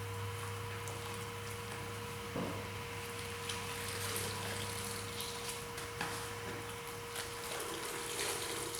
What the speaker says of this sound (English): begin rinsing and washing all the dirt and grime away from it